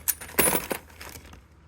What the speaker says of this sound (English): Yeah, and a bunch of change.